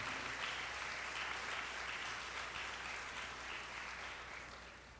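Crowd applause at a church festival for Our Lady of the Conception, a dense, fairly distant wash of many clapping hands that holds steady and then slowly fades over five seconds.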